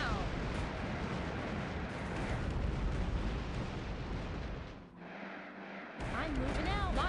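Heavy artillery and gunfire from units in the real-time strategy game Earth 2150 during a 4v4 match, a loud continuous barrage of blasts and shots with brief unit voice lines over it.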